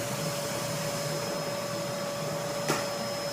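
A household vacuum cleaner runs steadily with a constant droning whine and an even motor hum, close and uninterrupted, with a brief bump near the end and no voices.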